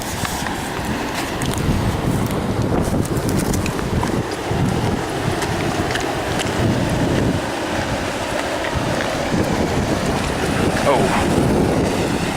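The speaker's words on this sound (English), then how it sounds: "So maybe that's why the river is flowing kind of very hard," A river swollen by heavy overnight rain rushes hard and loud on a windy spring day, with a broad continuous roar of water and gusts buffeting close by, steady for the whole stretch.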